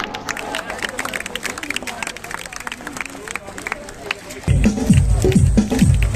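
Applause and cheering from a large outdoor crowd greet a marching contingent at a Beating Retreat ceremony at Suchetgarh on the International Border, with scattered claps swelling into loud, dense clapping for the last seconds.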